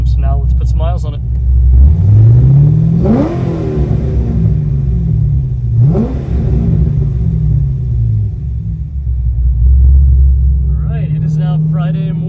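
A Corvette C6 Z06 with a new triple-disc clutch pulls away and shifts, its loud, deep V8 rising in two rev sweeps before settling into a steady rumble, with people talking briefly at the start and end.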